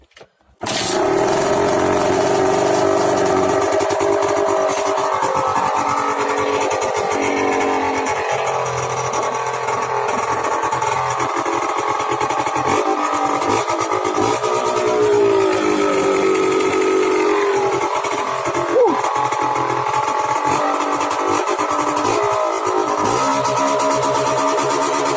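A scooter engine with a renovated exhaust starts and keeps running loud and close, holding a steady buzzing idle with small shifts in pitch throughout.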